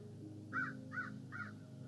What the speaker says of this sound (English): you're going to hear some ducks